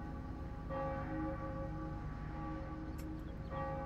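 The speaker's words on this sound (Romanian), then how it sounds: "nu se mai oprește clopotul" A church bell in Farming Simulator rings on and on, its sustained metallic tone with lingering hum, restruck about every few seconds at steady loudness, with no talk over it.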